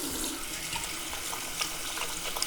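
Tap water running steadily into a sink as coconut oil is rinsed off a face, a close continuous splashing hiss with faint small splashes and no talk.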